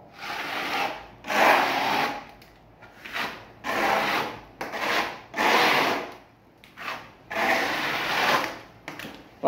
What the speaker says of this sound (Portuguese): usando aqui a desempenadeira de aço